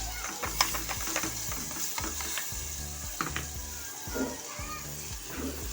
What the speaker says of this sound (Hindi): तो जी मसाला मेरा भुन गया, अदरक लहसुन टमाटर प्याज और ये जा रही है इसमें वेजिटेबल